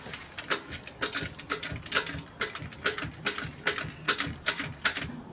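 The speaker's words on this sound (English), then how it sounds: "After I got it loose with the wrench, with the 14mm, I pretty much hand loosened it" Ratcheting clicks from a 14mm wrench loosening the bolt behind the starter on an Acura RSX Type S, a rapid series of sharp mechanical ticks in uneven bursts, close and fairly loud, with no talking.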